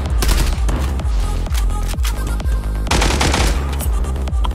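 Dense, loud gunfire from the Zula video game rattles in rapid automatic bursts, with sharp repeated shots and brief gaps between the volleys, and nobody speaks over the noise.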